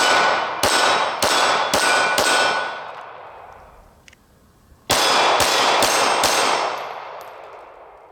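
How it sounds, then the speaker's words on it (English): Rapid 9mm pistol shots fired with Speer Gold Dot G2 rounds, two bursts of about five sharp, loud cracks each, with ringing echoes trailing after and a short pause between the strings. "here are day and night shots to give you an example of recoil plus muzzle flash"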